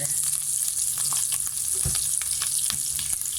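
Cooking oil with butter sizzles steadily in a pan for fish-egg spaghetti, a loud, even crackle with a few soft knocks of a utensil and no voices.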